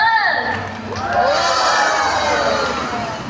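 An audience at a dolphin show cheers loudly as graduating dolphins are introduced. Excited voices and shouts swell and fade in a continuous crowd roar.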